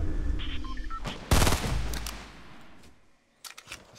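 Gunfire in the Fortnite video game: one loud, dense burst of shots cuts in near the middle over the game's background noise, followed later by a few sharper, quieter hits.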